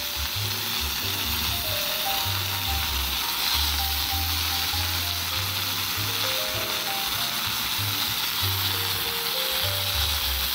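Asafoetida, green chili and ginger frying in hot oil for vermicelli upma, a dense, steady sizzle running unbroken throughout, with a low hum and a faint tune in the background.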